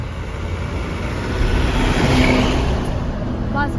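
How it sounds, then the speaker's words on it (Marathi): A bus passes behind the listener, its engine noise swelling to a broad roar midway, then easing off over a steady outdoor background. "बस गाडी पण मस्त गेले मागून."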